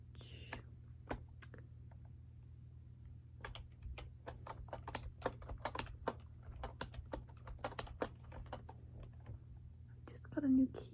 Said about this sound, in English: Just got a new keyboard